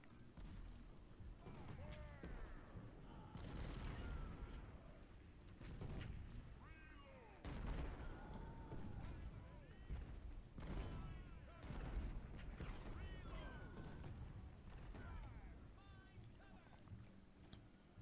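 Artillery cannon fire in a Civil War battle game, scattered dull booms and thuds spread across a busy battlefield din, moderately loud and recurring under someone talking.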